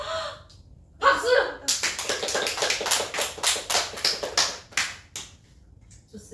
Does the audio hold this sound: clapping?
yes